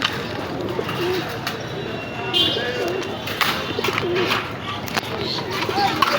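Several pigeons coo in low, rolling calls at the Gallamari pigeon market in Khulna, amid background chatter and clatter, with scattered sharp knocks throughout.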